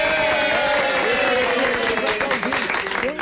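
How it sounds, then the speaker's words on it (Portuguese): Residents of Salgado Filho in a city's central area clap steadily in a sustained round of applause, with a voice speaking over it. "Os moradores da Salgado Filho, daquele entorno aí da região central da cidade, eles estão nos aplaudindo"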